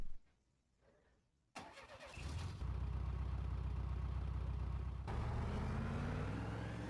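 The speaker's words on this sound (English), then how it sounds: "It's a pretty cool car, you gotta admit." In the game Mother 3, a car engine starts with a sudden loud crank and then settles into a steady, loud running drone that swells again as the car pulls away.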